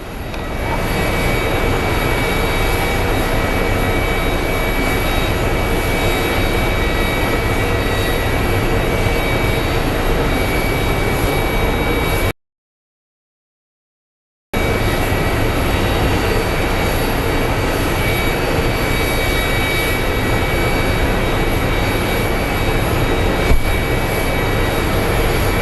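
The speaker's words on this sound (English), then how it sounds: "Pretty sure this plane is about to push out." A Boeing 737 jet airliner sits at Phoenix Sky Harbor airport, its engines giving a loud, steady whine and roar that runs unbroken except for one brief gap of silence.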